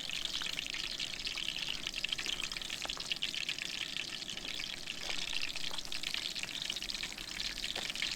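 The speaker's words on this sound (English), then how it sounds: "I'll kind of keep an eye on it to make sure it's frying well" Shrimp sizzle and fry in a crowded skillet at a campsite, a steady bright crackle running throughout with small pops and faint stirring clinks, no talk over it.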